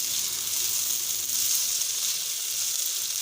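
Vegetables stirred into rice in a hot pan, giving a steady, even sizzle with no break in the frying hiss.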